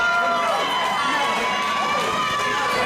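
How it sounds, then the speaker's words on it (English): Loud wrestling crowd cheering and shouting at a professional wrestling event as the champion leaves the ring, a dense sustained roar with high voices throughout. "The crowd giving him a champion's goodbye here."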